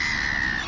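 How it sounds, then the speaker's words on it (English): A single harsh crow squawk, near and fairly loud, held for under a second among gulls being fed peanuts in the shell. "Looks like the crows are pushing out some of the gulls there"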